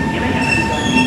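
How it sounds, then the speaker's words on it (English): A metro train on Singapore's line toward Changi Airport pulls into the station with a loud, close, sustained metallic wheel squeal and a steady rumble, heard alone without speech. "The train is here!"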